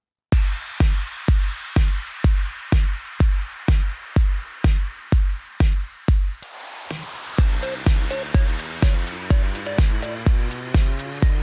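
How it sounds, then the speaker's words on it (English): EDM drop drums and effects: a loud, evenly spaced kick pattern thumps alone for about six seconds, then after a short sweep the beat carries on with pitched synth stabs layered over it. "Then all the drums and effects sound like this."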